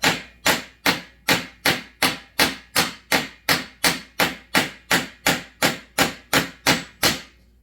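Sharp metallic hammer blows flatten pins while a new bar tip is installed, about sixteen evenly spaced strikes in a steady rhythm, close and clear with no voices.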